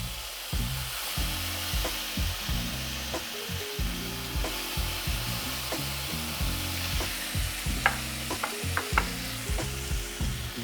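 Marinated Korean short ribs in a soy and brown sugar marinade sizzle on a hot grill, a steady close hiss broken by repeated scraping and shifting knocks as the meat is moved, no voices.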